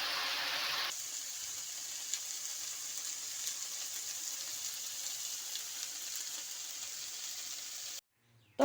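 Food with green chillies frying in a pan, a faint steady sizzle heard close and alone, with a louder burst at the start and an abrupt stop near the end.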